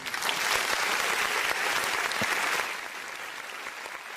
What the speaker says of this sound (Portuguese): uma salva de palmas para Malu Gaspar